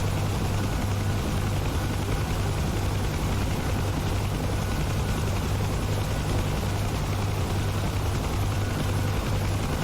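A UH-1 Huey helicopter in the DCS flight simulator flies over the Persian Gulf, its steady rotor thump and turbine drone loud and continuous throughout, with no voices.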